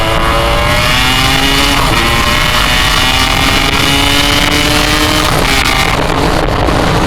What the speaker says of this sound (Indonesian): Suara knalpotnya yang jelas lebih berisik sedikit dari knalpot Air-King 83 gua.